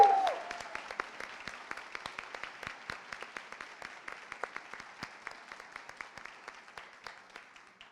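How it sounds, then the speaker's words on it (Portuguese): At a family anniversary event, an audience gives a round of applause to a couple of guests, a fairly quiet, scattered patter of individual claps that thins out and softens over several seconds. "uma salva de palmas aqui para eles"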